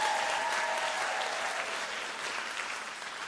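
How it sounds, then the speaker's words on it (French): A church congregation applauding together during a French-language healing service, a steady, dense clapping that fills the room evenly and fades slightly toward the end. "On applaudit Jésus."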